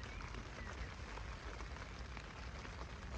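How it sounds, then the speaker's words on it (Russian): Dense, steady rain patters hard on a taut surface overhead, a continuous hiss and drumming with no pauses. "Сильный дождь пошел."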